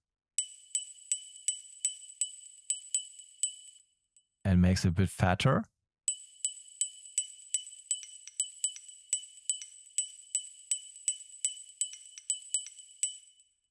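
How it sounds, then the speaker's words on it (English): Glass strike sample played in Ableton in a repeating Serum-style glass pattern for an Afro house track, bright clinking hits in a steady rhythm, briefly interrupted by someone talking before the pattern resumes. "we have this glass strike, same pattern as the Serum glass"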